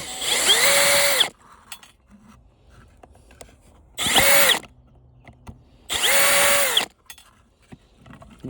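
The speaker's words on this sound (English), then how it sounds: "It's really a drill, but I also use it as a screw gun." A cordless drill used as a screw gun on a stand-up floor fan whirs in three short bursts, each spinning up and winding down, with quiet handling noises between.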